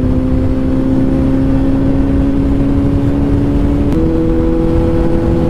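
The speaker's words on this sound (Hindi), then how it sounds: "अभी भाई बाइक 124 में चल रहा है" A motorbike ridden fast on an open road at about 124 km/h, its engine holding a loud, steady drone with a slight pitch shift partway through, over constant wind rush.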